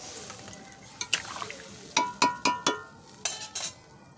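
Rohu fish, potato and elephant foot yam being stirred in a pan, with a run of sharp clinks and scrapes from the utensil against the metal coming in short bursts over a quiet background.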